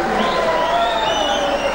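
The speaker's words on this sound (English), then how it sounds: "As soon as Shah's translator Anand Kumar stopped speaking, the crowd erupted" A crowd at a political town hall in Bengaluru bursts into loud, sustained roaring and shouting, a dense wall of voices close at hand with some whistling tones rising over it.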